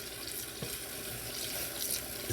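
Water running from a tap into a dye pot holding G10 handle scales, a steady broadband hiss and splash lasting throughout, close and uninterrupted.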